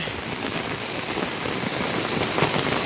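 Steady rain pours down in a dense, continuous hiss, with no voices and an even loudness throughout.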